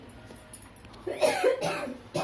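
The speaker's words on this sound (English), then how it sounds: "I'm already coughing here" A short run of harsh coughs, close and fairly loud, with a final cough after a brief pause.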